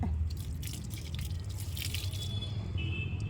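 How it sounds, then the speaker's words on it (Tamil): Water poured from a mug into a potted jasmine plant in a terrace garden makes a steady, gentle trickling splash close by, with no talking. "அளவாகவே தண்ணியை ஊற்றுங்க"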